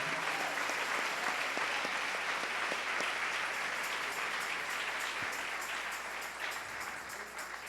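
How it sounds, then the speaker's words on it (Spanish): Congregation applauding in a church during a Christian sermon, a steady dense wash of many hands clapping that holds for several seconds, fairly distant and even, fading slightly toward the end. "Dele ese aplauso al Rey."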